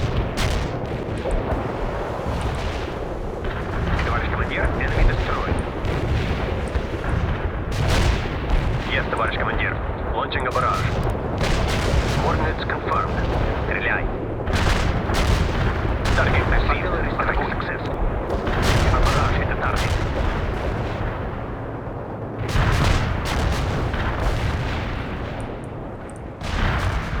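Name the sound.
artillery fire support in World in Conflict video game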